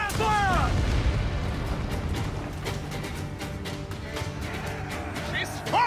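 Cannon fire from a sailing warship in the pirate video game Assassin's Creed IV: Black Flag, heavy booming blasts and rumbling gunfire under shouted orders and game music, with a loud burst at the end.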